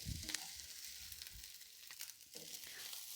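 Fish eggs fry in a pan while being stirred constantly to keep them from sticking, making a soft, faint sizzle broken by occasional light scraping.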